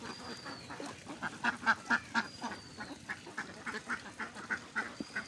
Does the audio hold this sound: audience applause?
no